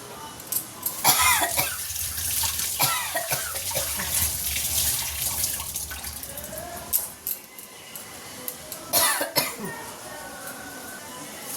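Fresh coriander leaves from a rooftop garden being washed under a running tap: a steady rush of water splashing close by, broken by brief knocks and a cough or throat clearing.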